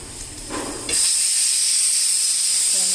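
A pressure cooker cooking gongura releases steam with a sudden loud, sustained hiss that starts after a brief rise and keeps going steadily.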